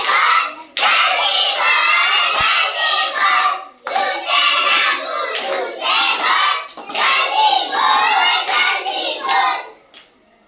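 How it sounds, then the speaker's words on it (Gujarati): Group of young children in a first-grade maths class clapping in rhythm while loudly chanting together in unison, the claps and voices running continuously for about ten seconds with short pauses between chanted phrases. "ચલો તાળી પડવાની જોડે જોડે"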